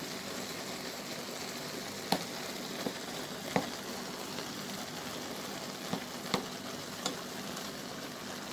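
Ground beef for a beef lasagna frying in a pan, a steady close crackling sizzle with a few sharp clicks and scrapes as the meat is broken apart, no voices.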